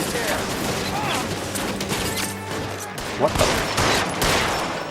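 Rapid gunfire in the PS4 video game L.A. Noire fills the whole stretch, dense bursts and sharp shots with a short louder cluster late on, while someone speaks over it.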